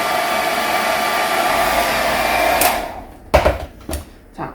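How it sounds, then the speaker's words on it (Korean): A hair dryer dries freshly applied mixed paint, blowing as a loud, steady whooshing roar before cutting off, followed by a few brief clunks and handling noises. "드라이기로 완벽하게 건조를 해서 확인을 하도록 하겠습니다."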